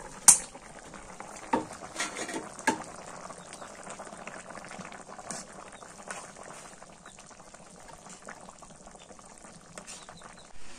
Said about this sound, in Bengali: তরকারি বলো ফুটছে, মাছটা দিয়ে নেই।